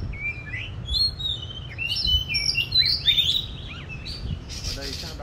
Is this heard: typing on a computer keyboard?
no